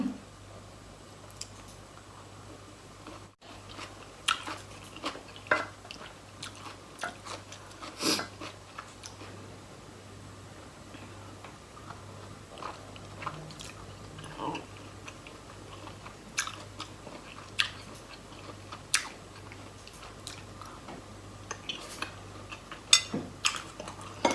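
Someone close by chews meatballs with cucumber, giving scattered crisp crunches and bites over a low steady hum, with gaps between mouthfuls and no talk.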